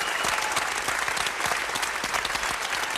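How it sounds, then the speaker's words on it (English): Steady audience applause for a comedy documentary tribute, dense and continuous clapping with no voices, filling the whole stretch at an even level. "Round of applause. I need them louder."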